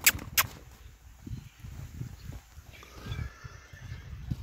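A horse for sale is walked on request so its hooves can be checked, its feet giving soft, close clip-clop steps in an even rhythm, with two sharp knocks at the start and faint outdoor background.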